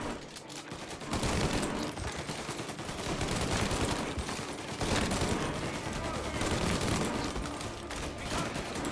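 Rapid gunfire in a shooter game rattles on almost without a break after a brief quieter opening, loud and dense bursts layered over battle noise.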